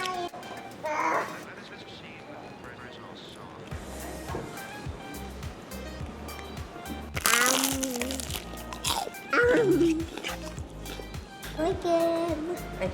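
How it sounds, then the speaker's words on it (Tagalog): Crunchy, oily fried chicken is bitten and chewed, giving a few sharp crunches amid lively background voices and a child's babble at a seaside spot in Tamsui, Taiwan. "It's crunchy. And it's oily because it's fried chicken."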